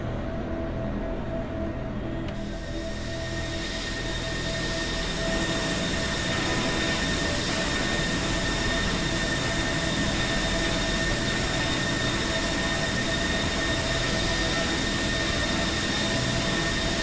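An aircraft jet engine whines steadily while taxiing, a loud sustained roar with bright ringing tones that jumps in level early on and then holds constant.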